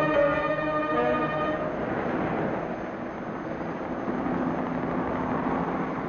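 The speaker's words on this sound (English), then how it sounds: "Whirling over the city, a police helicopter reports traffic movement to the operations center." A police helicopter flying over a city in a 1955 civil defense film, heard as a steady whirring drone at moderate distance on a worn, noisy soundtrack, with a brief ringing tone at the start.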